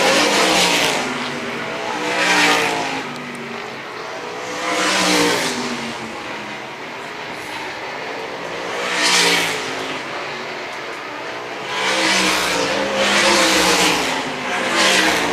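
Several 500 sprint cars race around Toledo Speedway, engines swelling loudly in repeated waves as the pack roars through the turns, with steady drone between passes and no talk.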